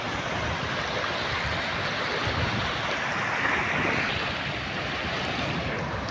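Rough, choppy sea with waves surging steadily around a small boat, a continuous broadband wash with wind buffeting the microphone and no clear breaks.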